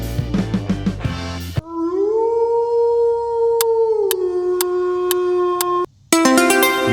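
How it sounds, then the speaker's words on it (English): A single long, steady wolf howl rises and holds for about four seconds, loud and clear, while short ticking clicks sound over it and music plays before and after. "The wolf howls to call its pack"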